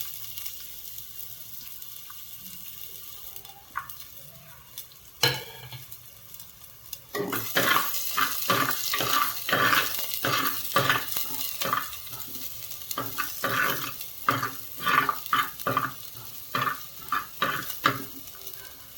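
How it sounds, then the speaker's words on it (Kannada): Chopped onion frying in coconut oil in a clay pot, a loud steady sizzle with repeated stirring scrapes coming in quick rhythm after a quieter start, with no talking. "ಈಗ ತೆಂಗಿನೆಣ್ಣೆಗೆ ಒಂದು ಅರ್ಧ ಈರುಳ್ಳಿ ಸಣ್ಣ ಕಟ್ ಮಾಡಿ ಹಾಕೋದು"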